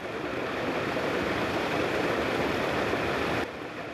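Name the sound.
muddy valley stream rushing in heavy rain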